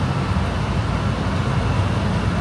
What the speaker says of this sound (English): We're at the front of the train.